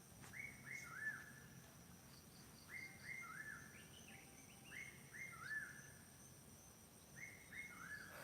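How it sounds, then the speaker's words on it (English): Near Wat Phrathat Doi Khao Kwai in Thailand at sunrise, a bird repeats short whistled calls in loose groups of two or three, faint and somewhat distant over soft outdoor ambience. "That bird, it's whistling at me. It's saying woo woo woo."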